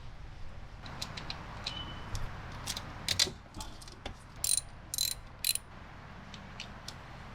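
A wrench loosens a fuel line fitting on an old bass boat's fuel tank. Light metallic ratcheting clicks come in short bursts against a quiet background, with no voices.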